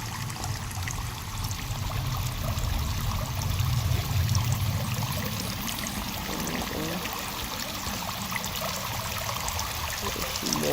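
Continuous trickling stream in the survival game Sons of the Forest, a steady close splashing flow with a faint low rumble beneath, no talk.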